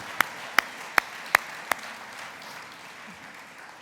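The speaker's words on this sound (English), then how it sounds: "let's give a round of applause to United Way staff" A few sharp, evenly spaced claps ring out for United Way staff at a campaign closing event, five distinct hits in the first two seconds before fading into quiet room tone.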